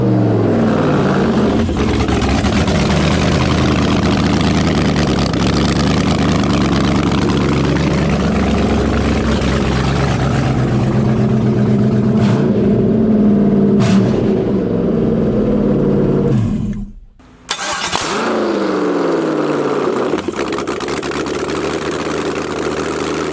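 An LS-swapped Jaguar XJ-S V8 runs with no exhaust fitted, idling loud, rough and close for a long stretch, briefly cutting out near the end before roaring back to a steady idle.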